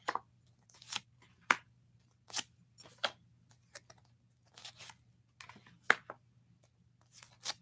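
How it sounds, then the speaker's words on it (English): Tarot cards drawn from a deck one at a time, a series of soft, separate paper slides and flicks close by, spaced irregularly over several seconds against a faint low hum; no talking. "I'm going to draw 5 cards for the summer."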